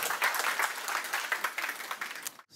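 Church congregation applauding as a pastor comes forward, steady close clapping from many hands that fades out abruptly at the end.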